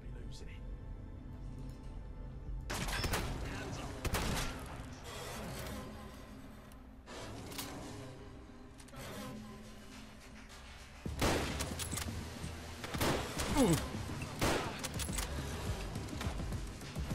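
Combat in the Fallout London game, with bursts of gunfire and sharp impacts clustering in several intense stretches over a continuous background of game noise and music.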